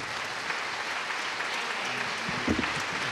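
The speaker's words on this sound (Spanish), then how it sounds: "Un aplauso por él." A crowd applauds steadily throughout, a dense wash of many hands clapping with a brief louder swell near the end.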